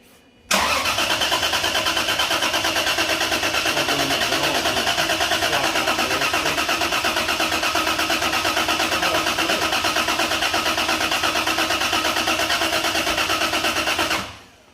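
Sustained engine cranking on the first start attempt of an IS300 GTE car: a loud, close, unbroken churn of about fourteen seconds with no clear catch into idle.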